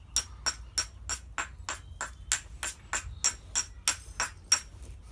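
Stone flint knapping on a replica Boxgrove handaxe: a rapid series of about fourteen sharp, ringing strikes as flakes are struck off, evenly spaced, close and crisp with no talk.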